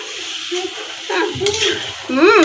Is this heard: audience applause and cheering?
no